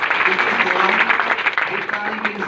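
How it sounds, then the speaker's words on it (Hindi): An audience clapping for the host at an event, a dense sustained round of applause with a voice talking over it. "मैं चाहता हूँ अब्दुल्ला सर के लिए भी जबरदस्त ताली होनी चाहिए।"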